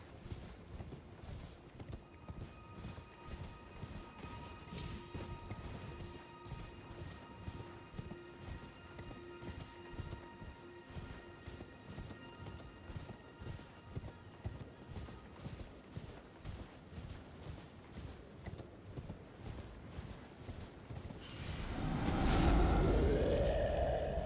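A horse galloping in the Elden Ring video game, with steady rhythmic clip-clopping hooves throughout, then a louder burst of rushing, impact-like noise near the end, without any voices.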